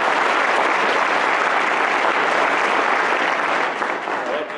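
Sustained, even applause from an audience at a drug court graduation ceremony, a dense wash of clapping throughout that eases slightly near the end.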